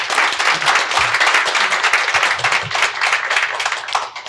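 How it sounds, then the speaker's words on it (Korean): Audience at a natural gas supply forum gives a loud round of applause, many hands clapping in a brisk, slightly uneven rhythm close by, with no talking over it. "큰 박수로 맞이해 주시기 바랍니다"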